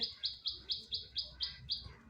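Racing pigeon chick peeping in a steady series of eight short, high chirps about a quarter second apart, close and fairly soft, with no talking.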